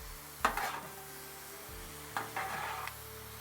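Tortellini being stirred into Alfredo sauce in a pan, two short bursts of wet scraping and spoon-on-pan knocks over a quiet background.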